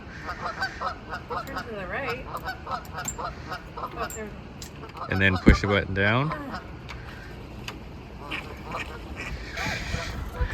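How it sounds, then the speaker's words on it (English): Geese honk repeatedly near a boat dock on Bowen Island in winter, with a loud burst of calls midway, heard beneath ongoing conversation between people. "I'm distracted by the nightmare of the geese. They're taunting me."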